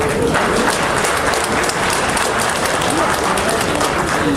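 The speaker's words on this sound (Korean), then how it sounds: "추대에 동의하신다면 큰 박수 부탁드립니다" Loud, dense applause from attendees at an alumni association's annual general meeting, approving candidates elected unopposed; a continuous roar of many clapping hands close by with no pauses.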